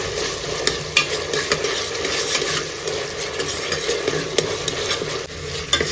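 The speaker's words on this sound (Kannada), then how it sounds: "ಇದಕ್ಕೆ ನಾವು ಶುಂಠಿ ಬೆಳ್ಳುಳ್ಳಿ ಪೇಸ್ಟ್ ಸೇರಿಸ್ಕೊಳ್ಳೋಣ. ಇದು ಚೆನ್ನಾಗಿ ಫ್ರೈ ಆಗಲಿ." Tomatoes and ginger garlic paste fry in a pot for egg biryani, a continuous dense sizzle with small crackles and occasional stirring scrapes, close and steady with no one speaking.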